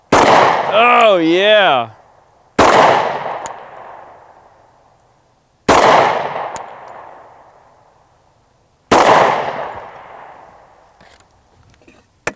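A Glock pistol fires hollow point rounds into a watermelon outdoors, four loud sharp reports spaced a few seconds apart, each ringing off in a long echoing decay, with a brief spoken remark near the start.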